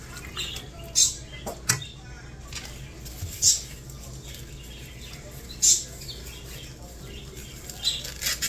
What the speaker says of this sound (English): I swear these birds are never quiet.